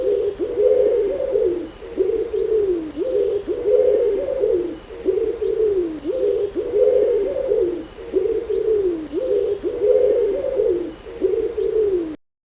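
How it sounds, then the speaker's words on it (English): Wood pigeon cooing on a UK smallholding at dawn, a close, clear bird repeating its rhythmic five-note phrase over and over, with faint chirping from other birds behind it. "take two coos, Taffy, take two coos, Taffy"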